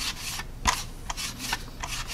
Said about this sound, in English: I just like brushing off, rubbing it off.